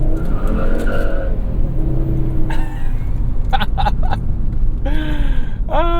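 A loud 1995 Volvo 850 T5-R wagon engine roars and revs, its pitch climbing in bursts with sharp popping and crackling from the exhaust between throttle blips.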